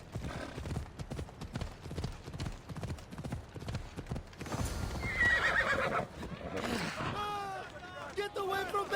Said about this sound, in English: Alright, time to find the horse.